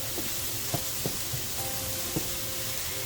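Mushrooms, added after onions, frying in oil in a pan for a chicken and shrimp stir fry, giving a soft, steady sizzle with a few faint stirring clicks, close by and with no talk.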